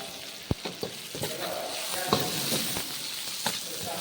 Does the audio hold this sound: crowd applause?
no